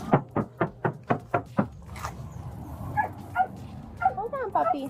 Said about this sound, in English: A dog somehow is trapped in a locked van.